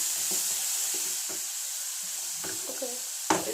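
Onions and garlic roasting in a pan for a bendakaya pulusu, a constant bright sizzle and hiss close by, with a few faint clinks of stirring and a louder scrape near the end.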